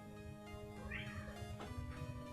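A house cat meows once in the middle, a brief near cry over steady low background noise in a room.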